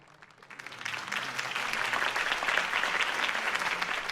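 A crowd applauds a campaign speech at a rally in Batman: The Telltale Series, the dense clapping swelling within half a second and holding loud and steady throughout.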